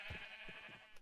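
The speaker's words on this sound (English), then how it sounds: "You can see there's redstone down there, and very loud sheep." Sheep bleat in the Minecraft video game, a short wavering call with a brief second bleat at the end, heard alone and fairly close.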